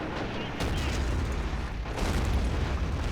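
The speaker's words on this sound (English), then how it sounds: "Let's go ahead and get that artillery firing off then." Artillery firing in Men of War: Assault Squad 2 during a factory defense battle, a continuous heavy barrage of deep booms and rumbling blasts with overlapping gunfire, loud and dense throughout.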